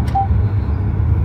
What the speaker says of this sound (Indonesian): Itu bunyi blind spot.